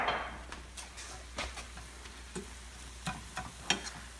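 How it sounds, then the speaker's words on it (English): An onion mixture sautés in a pan with a faint, soft sizzle, while light scattered clicks and scrapes of stirring tap through it at irregular moments. "You just gotta quickly saute it."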